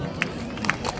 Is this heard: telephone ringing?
no